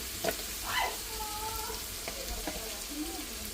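Soft frying and sizzling of tomatoes sautéing in a pan with occasional stirring scrapes, steady and close, with no talking.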